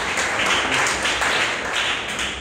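A crowd at a memorial meeting breaks into sustained applause, a dense, even wash of many hands clapping that holds steady and tapers slightly at the end.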